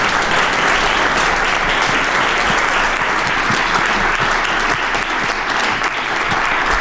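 Audience applause at the end of a lecture on great apes and the origins of human technology: loud, dense, sustained clapping from a large room, steady from start to finish with no talk.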